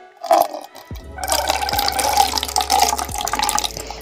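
Tap water runs steadily while tulsi leaves are washed, a continuous close splashing stream with a few brief knocks, starting after a short quiet opening and running alone without talk.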